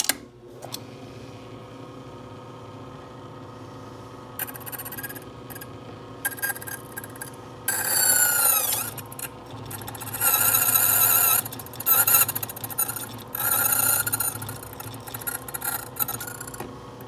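A key duplicating machine set for double-sided cutting cuts a Kawasaki ignition key, with a steady motor hum under repeated harsh rasping and squealing grinding passes that start and stop.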